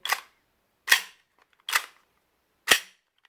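Four sharp, loud snaps from a Cybergun/VFC FN FNX-45 airsoft pistol with a metal slide, fired unsuppressed, each shot cracking with the slide cycling back, spaced irregularly about a second apart with silence between.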